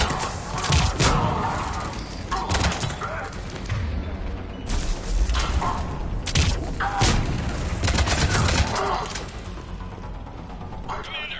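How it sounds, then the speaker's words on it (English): Heavy mortar barrages and booming blasts crash repeatedly in a Mass Effect 3 battle, loud and dense, with radio-style voices talking over the bombardment throughout. "we're getting a lot of mortar fire"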